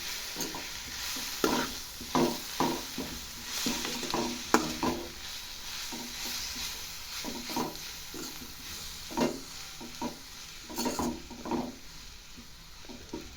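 Carrots are stirred in a sizzling pan for a sandwich filling, with repeated scraping strokes over a steady, fairly quiet frying hiss, close and without talk.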